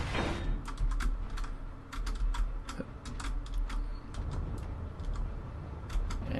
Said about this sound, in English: Can't see the cursor, so I have no idea what I'm typing.